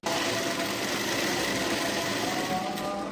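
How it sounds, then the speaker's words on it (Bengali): A sewing machine runs steadily, stitching a 36-size blouse, a continuous close, loud mechanical whir with no pauses throughout and no talk over it. "এবার এটাকে আমরা ধরে সেলাই দেবো।"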